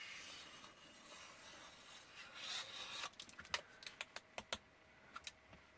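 Scissors cutting material for a small craft pouch: after a soft rustling of handling, a run of crisp, close snips and clicks, about a dozen quick cuts in an uneven rhythm, quiet overall.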